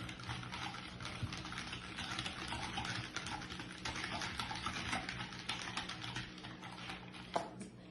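Crepe batter made with warm water rather than milk, stirred in a bowl: quiet, rapid, close clicking and sloshing that carries on steadily with one sharper knock near the end.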